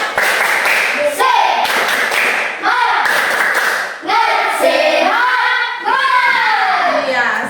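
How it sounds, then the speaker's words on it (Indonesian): A class doing a rhythmic 'tepuk semangat' clap, bursts of patterned hand claps in time with children chanting loudly together, the group voices dominating. "Sebelum bekerja di kelompok kita tepuk semangat dulu."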